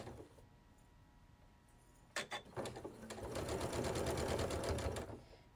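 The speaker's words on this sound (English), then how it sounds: "I'm just going to sew 1/4 inch down." A domestic sewing machine stitches quilt block pieces for a pinwheel quilt along a quarter-inch seam: a few short starts, then a steady fast mechanical whir for about three seconds, close and clear, with no talking.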